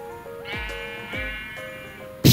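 A sheep in the video game Minecraft bleats twice, two wavering nasal cries close up and fairly loud, followed by a sharp burst of noise at the end.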